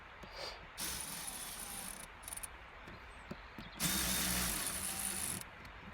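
A power tool spins screws back into a small front cover on a Ford Focus 1.6 diesel, giving bursts of high-pitched whirring and ratcheting with pauses between, the second burst louder and longer.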